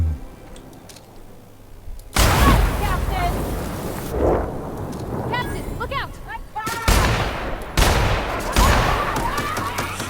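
Heavy gunfire in The Outer Worlds: Spacer's Choice Edition, with loud, dense bursts of shots and booming impacts that cut in sharply and repeat through most of the stretch, a voice speaking between and under them.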